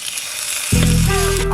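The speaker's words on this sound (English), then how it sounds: "Hear the sizzle?" Pork belly frying in a pan breaks into a loud, close sizzle partway in, a bright crackling hiss that continues steadily to the end, with no talking.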